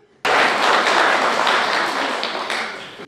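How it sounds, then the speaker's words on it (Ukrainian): Officials at a city day celebration meeting in Sumy being applauded, a dense burst of many hands clapping that starts abruptly and continues loudly for about three seconds. "Кращих відзначають оплесками."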